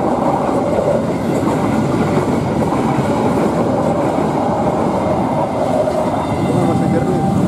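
An Indonesian KRL electric commuter train on track 2 rumbling past close by, a loud steady roar with clattering wheels on the rails throughout.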